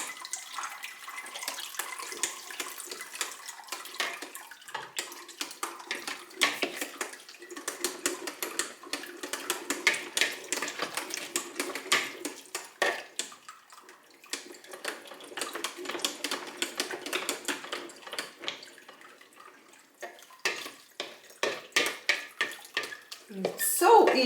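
A hand-cranked tomato strainer pressing cooked tomatoes, splitting sauce from pulp, gives off steady wet squelching and clicking churn in dense bursts, fairly close and continuous with brief pauses.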